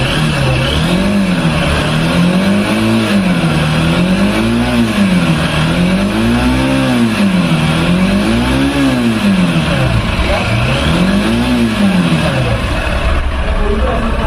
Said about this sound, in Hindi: इंजन साउंड सुनिए और इसका एग्जॉस्ट नोट भी सुनिए। अब मैं थ्रॉटल देता हूँ, आप साउंड सुनिए।